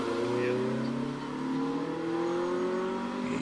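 A 2-litre Renault Clio race car accelerating at the Prescott hillclimb, a sustained engine whine rising steadily in pitch as it climbs, heard from a distance with a commentator talking over it.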